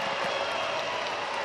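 Crowd noise at a baseball stadium during a Texas Rangers at Los Angeles Angels game, a steady, broad murmur of spectators rising slightly with scattered cheers and claps, continuous and moderately distant throughout.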